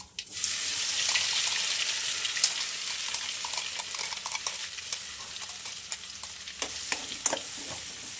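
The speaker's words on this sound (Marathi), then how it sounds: "हे वाटून घेतलेलं खोबरं टाकूया त्याच्यात" Ground coconut is stirred into hot oil with mustard seeds and cumin in a pan, giving a steady bright sizzle with scattered scraping and clinking of the spoon, close and continuous.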